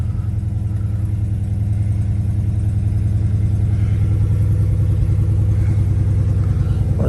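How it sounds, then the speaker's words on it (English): A Dodge Challenger SRT Redeye engine rumbles loud and close in a deep, steady idle with a throbbing low pulse, running alone without talk. "let's see how that Redeye sounds"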